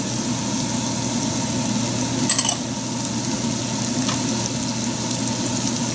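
Chilies and shallots fry over medium heat in a pan, giving a steady, loud, close sizzle that continues throughout with a brief clatter near the middle.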